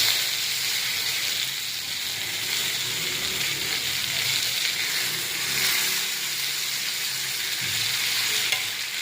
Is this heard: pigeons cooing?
no